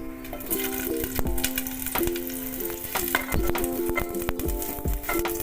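Pieces of papaya hit hot oil in a pan for a vegetarian labra ghonto and sizzle steadily and loudly, with stirring scrapes and clinks throughout and no voices.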